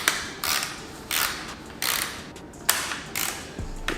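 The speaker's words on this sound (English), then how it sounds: "I'm just going to use this 3/8 inch ratcheting wrench and tighten down" A 3/8 inch ratcheting wrench clicks in short bursts while tightening bolts on a Toyota Tacoma TRD Pro, six rapid ratcheting strokes spaced about half a second apart, close and crisp with no talk.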